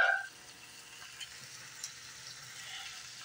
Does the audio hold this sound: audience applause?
no